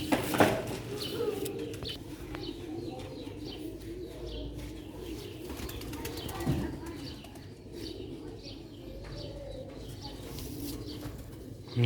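Female Sialkoti pigeons on a rooftop coo softly and repeatedly, with a few chirps and a brief wing flutter over a steady outdoor background.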